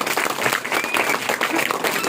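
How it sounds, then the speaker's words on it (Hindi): An audience at a public gathering claps together, a brief burst of dense, lively applause with a voice talking faintly beneath it. "और सुनिए, ताली बजाइए।"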